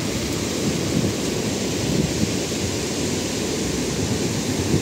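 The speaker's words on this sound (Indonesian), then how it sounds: "ini ombak eh. ombaknya bertempur dengan aliran air sungai" Sea waves colliding with a river current at an estuary, producing a steady, loud, broad roar of churning water that runs unbroken throughout, close by, with no voices.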